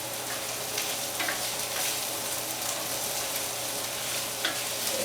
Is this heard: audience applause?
no